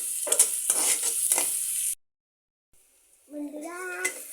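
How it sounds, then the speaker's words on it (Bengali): Onions with garlic, salt and oil frying in a pan for chickpea dal give a steady close sizzle for about two seconds, then stop abruptly; after a short silence, a voice is heard. "বন্ধুরা, আমার পেঁয়াজ ভাজি প্রায় হয়ে গেছে।"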